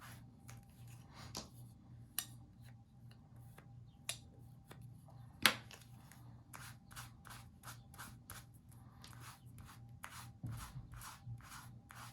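Paint is rubbed by hand onto a block for a craft layout, with faint, close, scratchy rubbing strokes repeated in an uneven rhythm over a quiet background and an occasional sharper tap.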